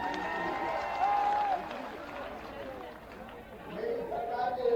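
Crowd at a political rally in Madhya Pradesh applauding to welcome Jyotiraditya Scindia, a sustained wash of clapping and crowd noise with a tonal voice-like line, rising again near the end.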